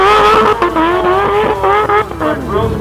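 An infinity-tuned Kawasaki H2 motorcycle screams past on a track, its loud, high-revving engine holding a strong harmonic whine that dips and climbs through gear changes, close and dominant throughout.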